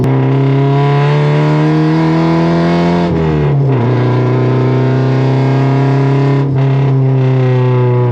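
A Nissan 240SX engine revs loudly and continuously from close inside the car, a deep droning roar that dips briefly as gears shift, then climbs again.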